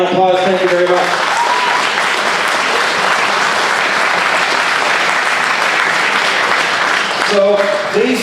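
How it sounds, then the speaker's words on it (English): Audience at a provincial by-election all-candidates debate in Calgary applauds the candidates in a loud, sustained round of clapping lasting several seconds, with a voice speaking briefly at the start and again near the end. "Ladies and gentlemen, would you give them all a round of applause?"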